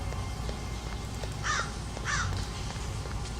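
Two crow caws from a video game sound at an even pace over a steady game backdrop, fairly clear against a busy low rumble.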